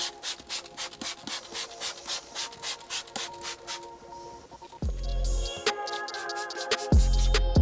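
Cloth wiping across a car dashboard during interior detailing, quick rhythmic rubbing strokes close up, followed by a few louder handling bumps and scuffs.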